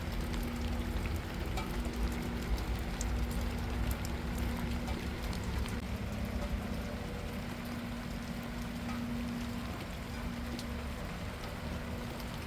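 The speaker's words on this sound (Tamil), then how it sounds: "அந்த அடமலை தாங்க அடித்து ஊற்றிக்கிட்டு இருக்கு" Steady, dense hiss of heavy rain pouring continuously, a constant wash of sound with a faint low hum beneath.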